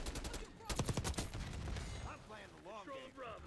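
AK rifle fire in a first-person shooter match, a rapid close burst of shots in the first half, followed by a player talking.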